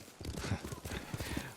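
Hooves clip-clopping in a quick, even gallop as a horse is ridden in Ghost of Tsushima, close and fairly quiet, with a voice speaking over the hoofbeats.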